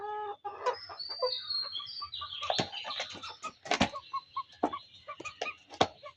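A flock of desi hens on a farm clucks in short, scattered bursts over several seconds, with occasional wing flaps and a louder squawk, all close by.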